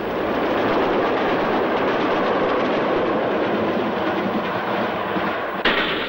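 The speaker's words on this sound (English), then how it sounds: "5041 Tiverton Castle speeds through Bicester on an up express." Steam-hauled GWR Castle class locomotive 5041 Tiverton Castle on an up express rushing through Bicester in 1963, a loud continuous roar of wheels and carriages passing close by, alone without any voices.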